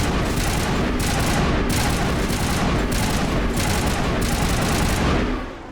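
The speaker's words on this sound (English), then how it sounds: "You almost got a burst fire." Rapid gunfire rattles in dense, loud bursts during Mass Effect gameplay, a near-continuous volley that keeps going for several seconds before cutting off.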